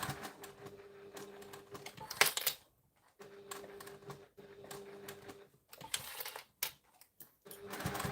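A sewing machine fitted with a zipper foot runs in steady bursts while stitching a zipper pouch, a close, even mechanical whir that stops and restarts several times with short silent gaps.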